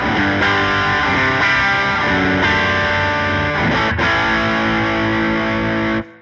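Distorted electric guitar chords through a Tone City Double Durple overdrive pedal, bridge pickup, ring out loud and sustained, changing a few times before cutting off abruptly near the end.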